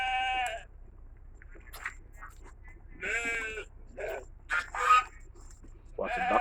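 Sheep at a farm bleat nearby, with several separate wavering calls spaced a second or two apart over a quiet background.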